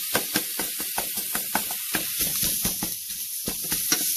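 Sausage crumbles in a hot pan as a metal smasher breaks it up for homestyle sausage gravy, giving a steady sizzle with a quick run of repeated clacking presses close by.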